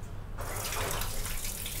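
Water pours in a steady, close rushing stream after a brief quieter start, like liquid being tipped out of a pan into a sink, as water is drained from a pan before adding brinjals.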